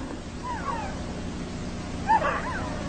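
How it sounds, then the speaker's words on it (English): Husky dogs and pups aboard Admiral Byrd's Antarctic expedition ship let out two brief, faint whimpering yips, spaced apart over a steady background hiss. "the veteran husky, presides as the pups become doggy shellbacks"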